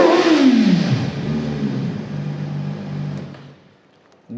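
A Voge RR 500S inline-four sportbike engine revs hard, its pitch climbing and then dropping back, and it holds a steady idle-like drone before fading. A brief blip returns at the end, with no talk.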